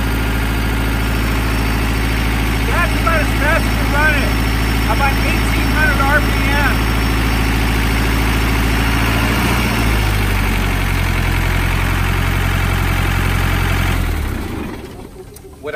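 Diesel engine running a Keene 4 inch gravel pump at about 1800 RPM, a loud, steady low drone with vibration that throttles down and cuts off near the end, a voice briefly talking over it.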